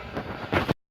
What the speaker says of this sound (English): Got about 7 inches of snow. And it's windy.